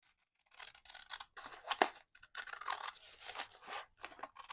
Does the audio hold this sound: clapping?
no